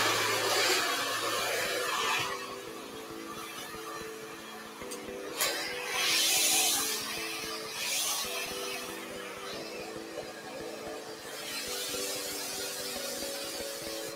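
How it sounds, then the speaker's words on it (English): A Vision hair dryer runs steadily on high heat, a continuous close whirring airflow that shifts slightly in pitch and intensity as it is moved around during hair setting. "I'm working with the Vision dryer. I'm going to turn it all the way up to high"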